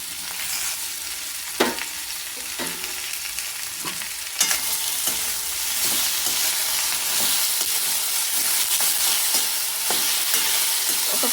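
Fish pieces frying in oil in a pan for a curry give a loud, steady sizzle throughout, broken now and then by the scrape of stirring, with no talking.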